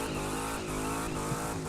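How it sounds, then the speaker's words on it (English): A drag car in The Crew 2 roars under hard throttle with a loud, steady, buzzing engine drone that stays close and continuous throughout, with no talk. "They accelerate really fast."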